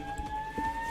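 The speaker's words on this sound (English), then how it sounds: "That's the ambulance that's being called for him." A fire department's emergency siren sounds nearby: two steady tones hold faintly for under a second beneath low background rumble.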